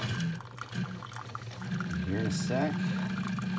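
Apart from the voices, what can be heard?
drip coffee maker brewing coffee into pot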